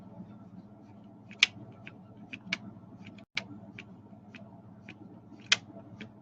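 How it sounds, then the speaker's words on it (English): Small, sharp clicks from a pen catching the edge of a sketch card while shading a comic drawing, about eight scattered ticks over soft scratching, close and fairly quiet, with no talking. "You hear that clicking as I'm catching the edge of the card there."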